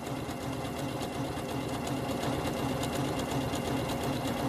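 A sewing machine runs steadily, stitching a strong reinforcing seam along the leg of scrubs trousers, its motor hum and rapid needle chatter continuous and close for the whole stretch, with no talking.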